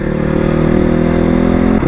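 A Crossfire motorcycle engine runs loud and close while riding, with a steady droning hum throughout, no talking.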